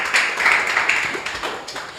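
A church congregation claps loudly and continuously during a Telugu Christian worship service, a dense, steady patter of many hands that holds for about two seconds.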